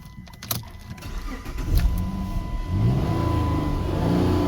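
A car engine cranks and catches after a few clicks, then settles into a rising, steady rev that swells and holds close and loud.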